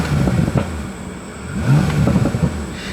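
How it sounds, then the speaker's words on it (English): A 2021 Bentley Continental GT W12, still warming up and limited to 3,000 rpm, revs in short bursts with its engine rising and falling, small exhaust pops and cracks scattered between the revs. "listen to the little pops and cracks here between the shift points"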